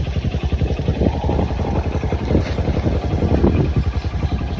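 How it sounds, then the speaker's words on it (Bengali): A motorcycle with a loud aftermarket silencer runs close by, its engine throbbing in a steady rapid pulse throughout, with wind noise over the microphone. "ওর গাড়ির থেকে সাইলেন্সারে বেশি সাউন্ড হচ্ছে"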